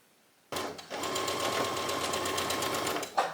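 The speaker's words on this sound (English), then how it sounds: "now I'm basting the strap to the front bodice" A sewing machine bastes a strap onto the front bodice of a knit top, starting abruptly and running in a steady, close, continuous whir for about three seconds before a brief pause and a short bump at the end.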